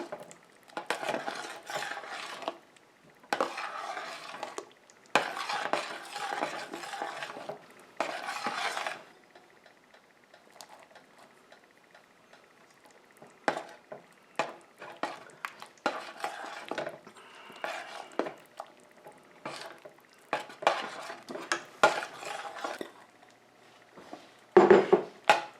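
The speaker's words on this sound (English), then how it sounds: "continue to stir this until the last of the cheese melts" Cheese is stirred into sausage soup in a pot, giving quiet bursts of spoon scraping and clinking against the pot in irregular spells. Short pauses separate the bursts, and a sharp knock comes near the end.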